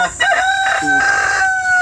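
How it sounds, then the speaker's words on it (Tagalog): A chicken nearby makes drawn-out, tonal clucking calls, loud and close, with no talking. "May manok na nga"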